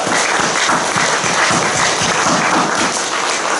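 A church congregation at a Wednesday worship service of retired pastors gives a thick, continuous round of applause, loud and close, steady from start to finish with no talking over it.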